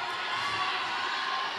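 Roller derby crowd cheering and shouting as a jammer goes out at a Japan versus Canada track game, a dense, steady roar of voices and whoops filling the whole short moment.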